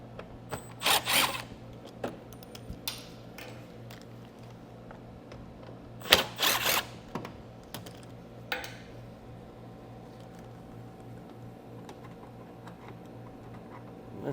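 Fasteners being pried out of the wheel well of a 2024 GMC Canyon: sharp plastic clicks and snaps come in two brief clusters, then one more pop, against a quiet workshop background.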